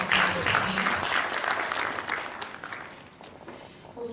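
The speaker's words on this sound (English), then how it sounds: "Another round of applause for him while he is ready to take a seat." Sustained applause from a large audience at a seminar opening ceremony, dense clapping that stays strong and then tapers off slightly toward the end.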